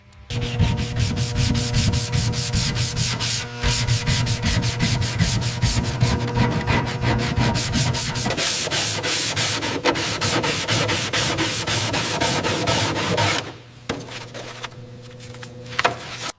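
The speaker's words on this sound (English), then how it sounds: "just cleaning off the last of the sanding dust here with the solvent before we prime this section" Steady, continuous rubbing and scrubbing as sanding dust is wiped off a car body panel with solvent, brisk and close, running without pause before easing off near the end.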